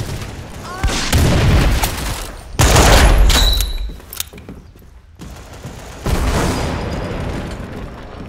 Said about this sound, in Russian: Внимание! Кидаю гранату.